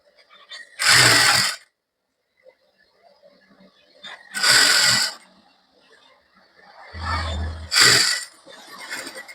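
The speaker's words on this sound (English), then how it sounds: "Then I will stitch it up to half of an inch here, this way." A sewing machine stitches a safari suit in three loud broadband bursts of running needle, each a second or two long, separated by quieter handling noise.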